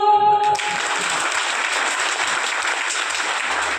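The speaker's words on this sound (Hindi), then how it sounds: "एक बार गड़गड़ा के ताली बजाई दियो" An audience at a Sant Ravidas Jayanti gathering bursts into dense, sustained applause that fills the clip at a steady level, following a brief moment of other sound at the start.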